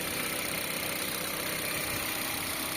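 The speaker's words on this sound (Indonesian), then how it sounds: "Untuk mesinnya sendiri ini masih terbilang halus ya teman-teman, dengan kondisi kilometer 134 ribuan" A Mitsubishi Xpander's 1500cc four-cylinder engine idles smoothly with about 134,000 km on it, a steady close-up hum with even low rumble and no change in pace.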